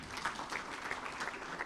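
Students clap at a university freshers' orientation gathering, a steady, moderately distant patter of many hands with no pause across the short stretch.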